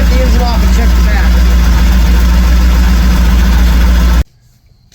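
A carbureted engine with a freshly rebuilt Holley carburetor idles close and loud with a steady low rumble, then shuts off abruptly near the end, leaving near silence.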